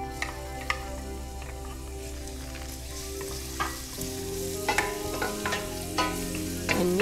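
Fresh garlic sizzling in olive oil in a hot pan, a loud, continuous crackling fry punctuated by occasional sharp clicks and scrapes of stirring.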